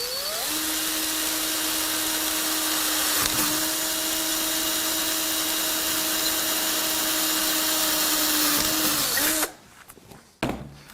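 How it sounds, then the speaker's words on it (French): A cordless drill-driver set to its lowest speed bores slowly through thick flat steel bar, a steady loud whine holding for about nine seconds before cutting off, followed by a few brief clunks. "La perceuse visseuse est réglée à la vitesse 1 et on va y aller tranquillement."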